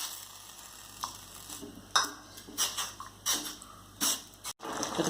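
A spoon scrapes and knocks against a pot while sabudana mixture is stirred continuously over heat, giving uneven, close strokes over a soft background sizzle.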